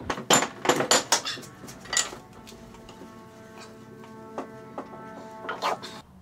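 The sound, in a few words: Dodge stub axle shaft being mounted in a vise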